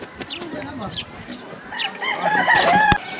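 A chicken crows loudly and close, with a few clucks and bird calls around it, building to a strong call near the end.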